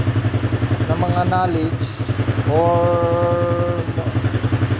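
A motorcycle engine runs after DIY troubleshooting, a loud, close, steady chugging pulse throughout, while someone talks over it.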